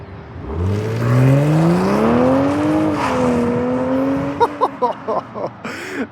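A BMW M440i convertible on all-season tires pulls away with a rising engine note that holds steady, then the tires give a few short, sharp chirps near the end as they briefly lose traction.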